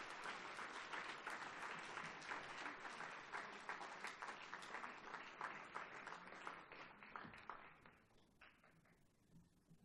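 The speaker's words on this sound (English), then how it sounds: "Please give them a big, big round of applause as they come forward" Audience at a university academic achievers' awards ceremony breaks into sustained applause, many distinct claps forming a lively rhythm that gradually thins and dies away near the end.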